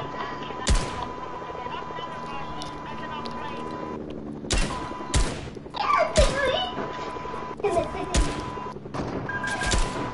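Gunfire crackles in the Fortnite video game, a handful of sharp close shots and bursts scattered over steady game background, with someone talking between them.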